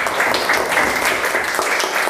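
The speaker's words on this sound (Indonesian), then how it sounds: "Keren, tepuk tangan buat Damar." Classmates clap for a student during a school lesson, a short burst of lively, slightly uneven hand clapping from a small group nearby, fairly loud and dense over about two seconds.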